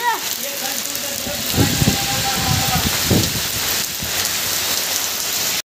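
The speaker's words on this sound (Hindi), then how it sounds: "क्या मस्त बारिश आ रही है।" Heavy rain pours steadily outdoors at a dosa spot in Karnal, a dense, constant hiss with a few nearby drips and splashes standing out, close and loud throughout.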